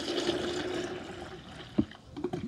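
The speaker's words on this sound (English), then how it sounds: "Now just running it through with water." Water gushes through a beer engine handpump line, a steady splashing flow with a few sharp gurgles and spurts toward the end, close by.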